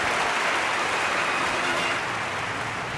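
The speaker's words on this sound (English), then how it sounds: "Nice round of applause for your heat race winner in the 7 car, Austin Merrill" A crowd at a sprint car and midget race night in Ventura, California applauds a heat race winner, a steady, fairly faint spread of clapping that holds evenly for a few seconds.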